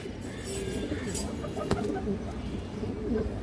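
Old-line sabji pigeons coo softly in a loft, low throaty murmurs repeating under a steady background hum, with one sharp click midway and faint voices nearby.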